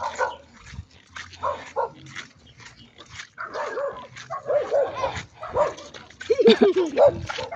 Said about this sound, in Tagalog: mga katapang mga aso dito